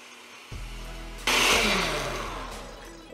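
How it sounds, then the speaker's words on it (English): A motor starts up and then a blender roars loudly, whirring steadily and slowly dropping in pitch as it runs. "the sound of a blender isn't horrible"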